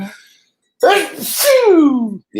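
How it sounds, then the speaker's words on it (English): A single loud sneeze from a man, a sharp inhaled buildup followed by the explosive burst, close to the mic with brief silence around it. "Hold on, I'm gonna sneeze."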